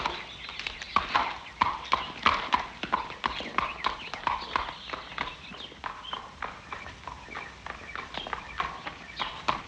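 Horse hooves clip-clop in a steady walking rhythm on a hard surface, with faint voices mixed in beneath.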